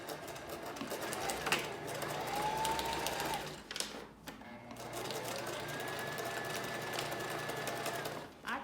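A sewing machine stitching a 5x5 HD lace closure on a paper form: a steady, close, rapid mechanical whirr that runs continuously, pauses briefly, then resumes.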